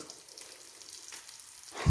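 Fish coated with a little rice flour frying in hot oil, a soft, steady sizzle throughout at low level, with a louder clatter right at the end.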